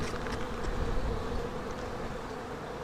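Honeybees buzz around an open beehive during a summer inspection, a dense, continuous close-up drone that swells slightly early and then holds steady.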